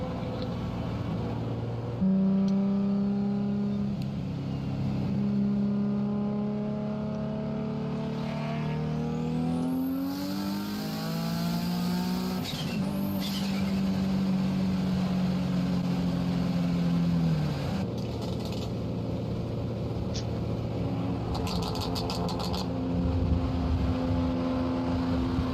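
Ferrari engine revving hard, rising and falling in pitch with strong harmonic sweeps, loud and close, with a brief high whine partway through.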